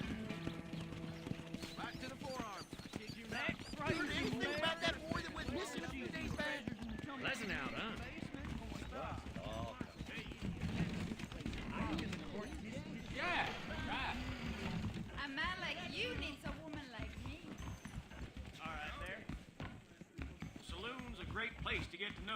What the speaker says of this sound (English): All right, tie up the horse.